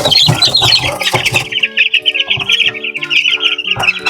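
Pure white Kelso chickens cluck and chirp close by in a short, busy burst, several birds overlapping with sharp calls and lower clucks, with no talk.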